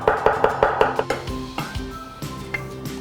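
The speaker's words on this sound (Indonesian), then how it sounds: "Oke, kita cincang dulu ini bawang putih." Garlic being chopped with a knife on a board for a Hakka dish, a quick run of sharp chopping taps in the first second or so, then sparser clinks and tonal ringing, alone with no talk.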